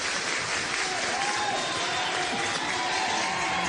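Steady crowd noise from a minor league baseball stadium in Eugene, as home fans cheer and applaud for the Emeralds in the bottom of the ninth of a playoff game, a continuous wash of distant applause and voices.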